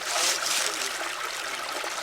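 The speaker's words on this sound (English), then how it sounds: "So we have a pretty good flow of water" Creek water rushing steadily over migmatite rocks beside a deep pool, a close, continuous broadband wash of flowing and splashing water with no voices.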